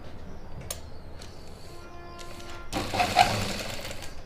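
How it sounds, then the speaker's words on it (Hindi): Sewing machine stitching a seam on a suit: faint ticking and handling sounds, then a short burst of close mechanical stitching near the end. "और यहाँ से सिलाई स्टार्ट करेंगे।"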